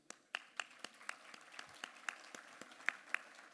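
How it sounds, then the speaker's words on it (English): Audience applause at a University of Miami real estate conference, a thin scattering of individual claps in loose rhythm, quiet and a little distant, with no talking over it. "applause"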